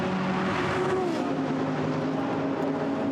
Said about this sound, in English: The Emile Frey Jaguar on track.